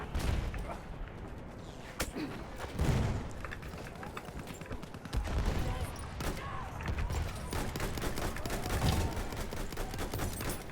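Battlefield 1 gunfire, repeated sharp shots and rattling bursts in the middle distance over a continuous battle din, with voices talking over part of it.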